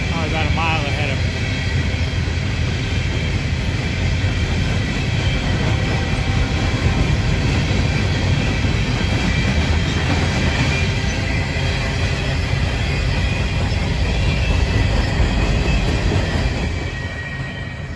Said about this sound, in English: But there's a long train